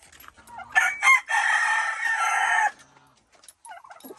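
Native chickens on a farm: a rooster gives one loud, close crow lasting a couple of seconds, preceded by short clucks and followed by quieter clucking.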